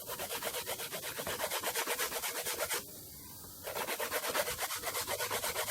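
Coconut being grated by hand outdoors for Jamaican cooking, a steady rhythmic rasping scrape of about three strokes per second, close and clear, with a short pause midway before the strokes resume.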